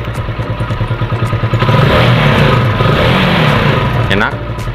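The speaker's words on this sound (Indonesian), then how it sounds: "Nah menyala, stasioner dengan bagus." A motorcycle engine with a Samco intake manifold hose and PE28 carburetor idling steadily with a rapid even throb, close and loud, while someone talks over it.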